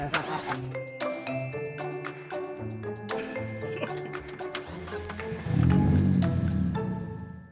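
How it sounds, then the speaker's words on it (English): A car engine on a race track catches after a ratcheting, clicking start sequence, then settles into a louder steady idle rumble near the end. "Start your engine. Oh, it's on."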